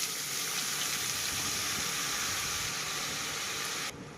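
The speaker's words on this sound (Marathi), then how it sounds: "लहसुन तेल में भुजा घेचा ये पालक नाख दू छू" Spinach is dropped into hot oil with fried garlic and cumin, giving a loud, steady sizzling hiss that cuts off abruptly at the end.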